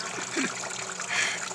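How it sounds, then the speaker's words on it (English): Water trickling and splashing down a kids' water table waterfall outdoors, a brief close, gentle dribble. "It took a lot of work to build this waterfall of yours."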